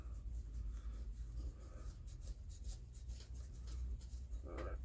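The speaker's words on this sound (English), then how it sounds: "I'm just getting the gasket material off of that plate." Old gasket material is scraped off an outboard motor's water pump plate: repeated short rasping, rubbing strokes in an uneven rhythm, close and fairly quiet, with no talking.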